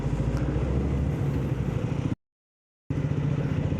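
Road traffic heard from a moving motorcycle, a steady close engine drone with a rumbling hum that cuts out briefly to silence and then resumes, with no voices.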